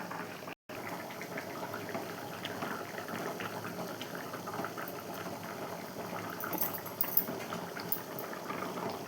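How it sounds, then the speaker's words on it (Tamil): A pot of tamarind kuzhambu with drumstick and brinjal bubbles at a steady simmer, giving a continuous soft boiling hiss with faint pops and no voices. "புளித்தண்ணி ஊற்றிருக்கோம்ல, அதனால் கொஞ்ச நேரம் கொதிச்சுட்டு ஆஃப் பண்ணிடலாம்"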